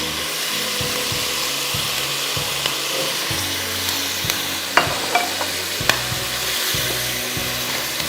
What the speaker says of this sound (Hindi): इसको आपको चिकन को फ्राई कर लें इसी में